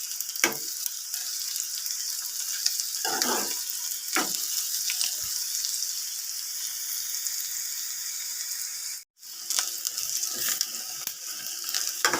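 Ivy gourds fry over low heat in a pan for a village-style ivy gourd and peanut fry, giving a steady, moderately close sizzle with occasional stirring scrapes and a brief dropout near the end, no talk.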